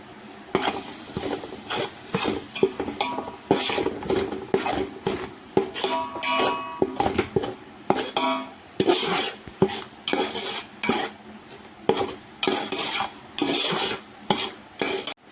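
A metal spoon stirs chicken pulao ingredients with spices in a pot, scraping and clinking against the pan in irregular repeated strokes, close and clear, with a faint sizzle beneath.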